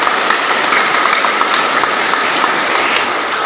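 Dense, loud clapping from a large crowd at an anniversary gathering of a martial arts brotherhood in Kefamenanu, Timor, holding steady throughout without a break.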